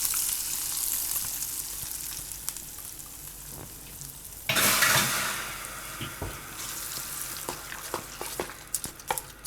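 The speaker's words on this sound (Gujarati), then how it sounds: "ગેસ બંધ કરી દેવું અને આ વઘાર આપણે આને ઉપર નાખી દેવું." Hot tempering of oil with asafoetida and curry leaves, poured over chickpea appe batter, gives a sudden burst of loud sizzling and crackling that fades into quieter frying bubbles and scattered clicks of a spoon.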